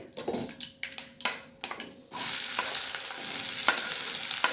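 Chopped onions fried in oil with cumin and curry leaves, starting with a run of clattering spatula strokes against the pan, then swelling into a loud, steady sizzle with occasional scrapes.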